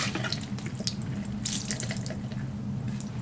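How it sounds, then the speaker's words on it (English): Tap water runs steadily into a sink while a makeup brush is rinsed of product, a continuous close splashing stream with brief louder gushes and no voices. "You just want to make sure you rinse all the product out"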